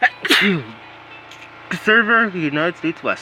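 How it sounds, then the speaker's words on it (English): A sudden sharp sneeze bursts out near the start, followed by a person talking. "That was a sneeze."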